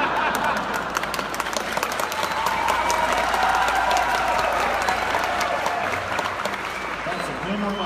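A live theater audience at a cooking show applauds steadily and loudly for several seconds, a dense wash of many hands with a voice speaking faintly underneath.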